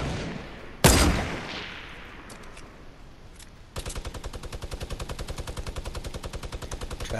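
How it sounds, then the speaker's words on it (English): Minigun fire in the Fortnite video game: a single loud gunshot with a decaying echo, then after a short lull a steady rapid stream of evenly spaced automatic rounds that carries on to the end. "lays down minigun fire on their base"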